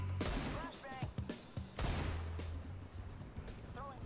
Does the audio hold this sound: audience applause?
no